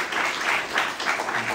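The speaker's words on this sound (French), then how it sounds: "Nous pouvons quand même applaudir aux sœurs qui ont servi les frères et sœurs." Brief, moderately soft clapping from a church congregation during a French-language service, honouring sisters who served, a short patter of hands rising and falling in waves.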